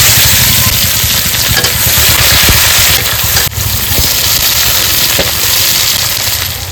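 Onions sizzle loudly in hot oil with bay leaf for a chicken curry, a dense continuous frying crackle close up with occasional stirring scrapes and no talking.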